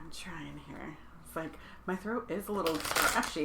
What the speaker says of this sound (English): So you drink the tea. You shuffle them cards.